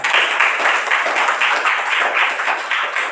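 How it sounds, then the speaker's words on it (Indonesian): A classroom group gives a burst of steady, dense clapping for student group 3 during a teaching-practice session, sustained and fairly loud for about three seconds with no talk. "Sekali lagi kita beri aplaus untuk kelompok 3"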